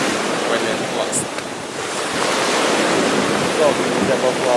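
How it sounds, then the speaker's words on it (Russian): Sea surf washing onto a beach at a Sochi resort, a steady broadband roar of breaking waves with gusts of wind noise on the microphone, continuous and fairly loud throughout. "Я нахожусь на море."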